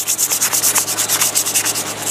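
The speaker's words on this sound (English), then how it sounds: "We'll hit them with a little sandpaper." Sandpaper rubs briskly over ceramic front brake pads from a motorhome, making steady back-and-forth scraping strokes in a quick, even rhythm, close and loud with no talking.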